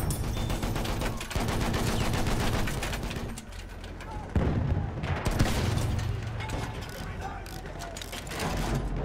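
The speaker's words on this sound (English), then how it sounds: "Enemy machine gun over there!" Enemy machine gun firing in the Battlefield 1 video game, heavy sustained bursts mixed with booms and battlefield din, loud and continuous across the scene with voices over it.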